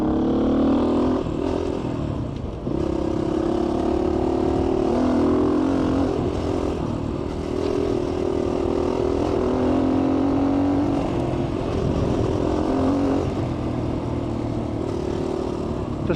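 A GPX FSE250e motorcycle riding in third gear on a test track, a steady droning engine hum with slight rises and falls in pitch, continuous and close, mixed with wind rush.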